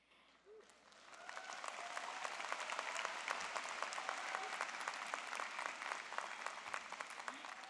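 A spring university commencement audience bursts into sustained applause with scattered cheers, a dense crowd clapping evenly for several seconds after a brief quiet start.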